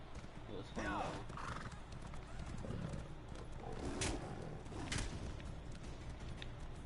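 Horse in Elder Scrolls Online whinnying and neighing with clip-clopping hooves, fairly close, while people talk over it.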